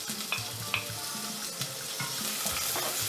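Sliced onion and garlic fry in vegetable oil with a close, steady sizzle and light stirring scrapes.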